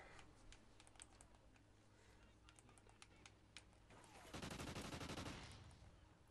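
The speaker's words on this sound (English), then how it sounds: "This MTAR just rips." MTAR submachine gun in Call of Duty Ghosts firing in short bursts, faint at first, then a loud sustained automatic burst near the end, with keyboard clatter throughout.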